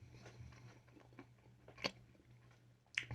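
Someone chews fresh, still-hot, salted oil-roasted peanuts, which are softer than cooled ones. Soft, faint mouth sounds come through, with two brief louder crunchy bites standing out near the middle and at the end.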